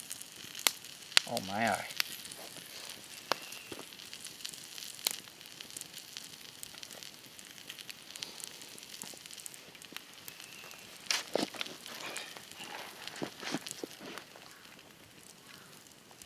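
A steak seared over campfire coals on a day hike gives a soft, steady sizzle and crackle, faint and outdoors, with a few sharper pops and a brief spoken remark.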